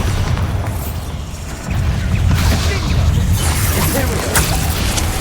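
Bombarda spell blasts in Hogwarts Legacy, a heavy booming explosion rumbling through a loud, dense game mix, with a fresh burst around two seconds and crashing debris continuing, under faint voices.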